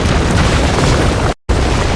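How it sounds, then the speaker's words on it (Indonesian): A loud, dense explosion sound effect fills the clip with a broad rumbling roar, cut by a brief moment of silence before the blast noise resumes. "terdengar suara ledakan dan teriakan Lamis dari luar"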